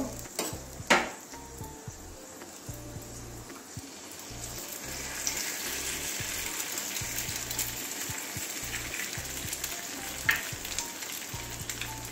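An egg hits a hot pan while making an egg soybean roll, starting with a brief crack and tap, then a steady soft sizzle of frying that grows louder.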